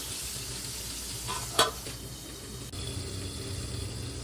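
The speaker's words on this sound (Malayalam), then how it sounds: "അതിന് ശേഷം ഞാൻ മീൻ വറുക്കാൻ വെച്ചു" Fish frying in a pan gives a quiet, continuous sizzle with a brief clatter partway through. No voices are heard.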